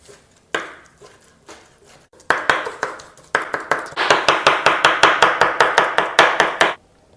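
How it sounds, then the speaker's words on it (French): Spinach coarsely chopped with a knife on a board: sharp close blade strikes, a few scattered at first, then a fast steady run of evenly spaced chops before stopping. "Maintenant, on vient hacher grossièrement nos épinards."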